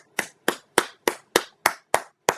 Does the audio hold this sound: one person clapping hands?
yes